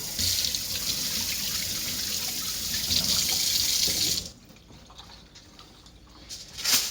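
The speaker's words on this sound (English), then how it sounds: "now we're gonna rinse off our hands" Tap water runs steadily into a sink while hands are rinsed after rubbing seasoning onto ribs, then the flow cuts off abruptly, leaving quiet with a few small splashes and handling sounds.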